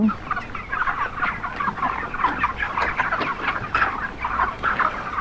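A flock of 45-day-old broiler chickens clucks and chatters continuously, many birds overlapping in a busy, close-up coop din.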